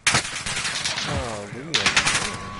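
Rapid bursts of video game gunfire crack out in two clusters, loud and close, with a sliding tonal whine running between them while the player aims down sights and strafes.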